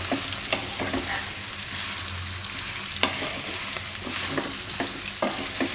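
Food sizzles steadily in a pan while a utensil stirs and mixes it, making repeated scraping knocks over the frying.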